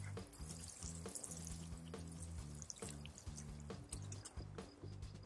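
Water pours and drips steadily onto soil mix being wetted for seed blocks, a quiet trickling stream broken by irregular splashes and drips.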